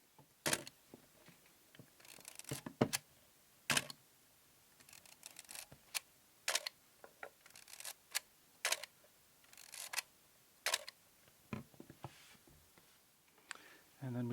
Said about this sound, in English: And then for the sound of the shutter,